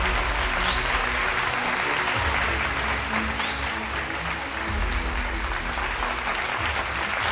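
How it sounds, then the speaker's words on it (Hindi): Steady, dense applause from a large crowd at the closing ceremony of the 5th Chitra Bharati Film Festival, continuous and loud throughout. "जोरदार तालियां।"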